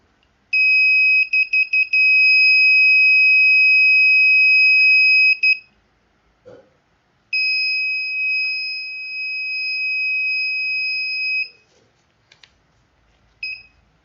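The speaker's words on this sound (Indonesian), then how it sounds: "maka lampu otomatis akan mati dan buzzer akan berbunyi." An Arduino-based automatic face-mask detector's buzzer sounds a loud, steady high-pitched electronic tone, opening with a few quick pulses, holding for about five seconds, then after a pause sounding again for about four seconds, followed by a brief chirp.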